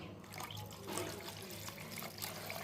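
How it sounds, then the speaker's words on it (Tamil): Water poured into a cooking pan over ginger and softened tomatoes while making upma, a steady continuous splashing trickle heard close and at even level throughout, with no talking. "அப்போ தண்ணி ஊற்றிக்கலாம்."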